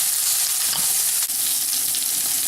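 Onions and peppers fry in a hot pan for a keto quesadilla texana, a steady, dense sizzle running throughout, close and loud, with a faint stir or tap midway and no talking.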